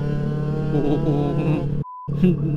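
A Honda Genio scooter fitted with a WRC aftermarket exhaust revs close up, its buzzing engine note rising and falling before a brief electronic beep cuts in and the engine returns.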